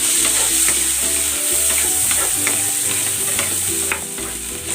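Mixed vegetables frying in butter and cooking oil, a loud, steady sizzle close up with repeated spatula stirring and scraping strokes throughout, no voices.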